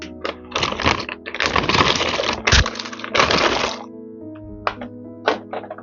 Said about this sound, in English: I'm going to add in the tortellini.